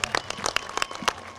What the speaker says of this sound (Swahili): Naomba pigeni makofi mengi sana.